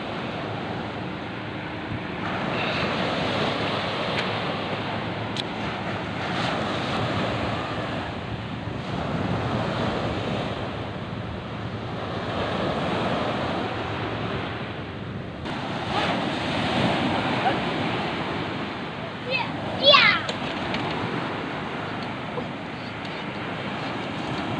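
Sea waves wash steadily onto a provincial shore in repeated surges, loud and close, with wind buffeting the microphone throughout.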